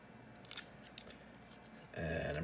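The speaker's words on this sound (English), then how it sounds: "to secure it, I'm going to take a little tape." Tape being handled to hold a 128 GB drive inside an iPod Classic 6th gen during an upgrade: quiet rustles and small clicks, then a sudden steady ripping as a strip of tape is pulled off the roll, close up.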